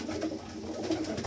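A pigeon coos softly in a couple of low, throaty phrases, close by, with faint background rustle and no talk.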